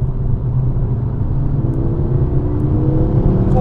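A Ford Focus RS MK2 engine pulls hard while driving, a loud, steady low drone that builds smoothly toward the top of the rev range inside the car.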